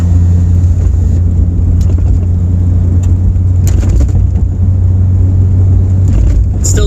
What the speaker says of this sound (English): It's shifting way smoother than it did before.